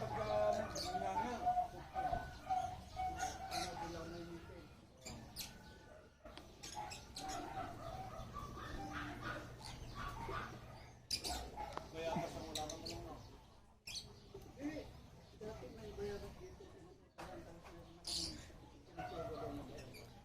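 Birds call repeatedly in an outdoor setting, with clucking, cooing fowl-like notes sounding at moderate distance, mixed under background chatter and occasional voices, steady throughout.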